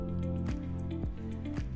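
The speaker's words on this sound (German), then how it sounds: "Ist die Masse flüssig, tropft sie unten aus dem Ofen heraus und wird dort in einem Wasserbehälter aufgefangen." Molten jewelry alloy drips from the bottom of a melting furnace into a water container, with three evenly spaced drips, each a sharp falling plop, over a loud, dense, continuous background hum.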